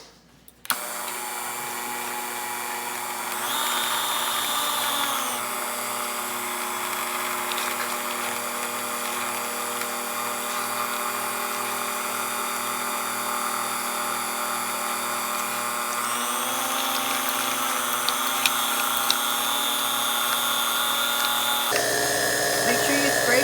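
An electric hand mixer whirs steadily in a bowl, creaming cinnamon roll frosting, its loud buzzing motor shifting pitch a few times as it works and cutting out near the end.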